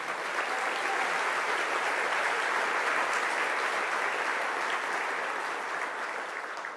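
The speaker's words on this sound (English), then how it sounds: "Let's give our presenting sponsors a hand." A luncheon audience at a cancer foundation's annual event applauds its presenting sponsors, a dense, steady wash of clapping from many hands that holds evenly at a moderate distance for several seconds before tapering slightly.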